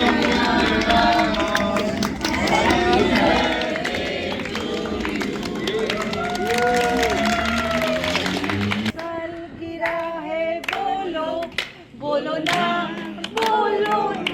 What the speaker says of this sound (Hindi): तालियां बजे में बेबी बाजी के लिए।